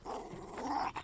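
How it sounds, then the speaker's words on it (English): A dog ripping up a teddy bear growls in a low, rough, sustained rumble at close range, rising slightly toward the end with a short harsh accent. "There's a Dog ripping up one of the cats."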